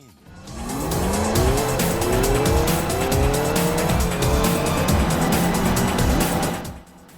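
Engines whine and rise in pitch as karts race in Sonic and All-Stars Racing Transformed, with tyre squeals and skids, loud and sustained before cutting off abruptly.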